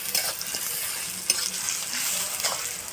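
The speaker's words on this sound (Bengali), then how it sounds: "এবার রসুনটা খুব ভালো করে নেড়ে নেব।" Garlic paste sizzles loudly in a pan while being stirred for a village-style chicken kosha, a steady close frying hiss broken by a few scraping strokes and one sharp clink, with no talk.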